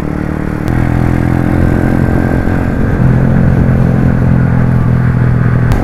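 A motorcycle ridden on a long ride near Napsan, Puerto Princesa, Palawan, its mid-range engine droning loud and steady from close up with wind rush, the note shifting slightly as it changes speed.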